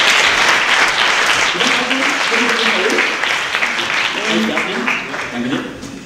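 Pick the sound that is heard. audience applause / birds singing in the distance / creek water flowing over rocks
audience applause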